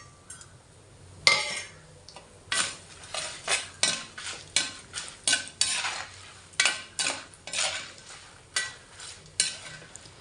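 Red chillies, chana dal and cumin dry-roasting in a pan for curry-leaf thokku, heard as repeated close scraping stirs of a spoon against the pan in an irregular rhythm over a faint background sizzle.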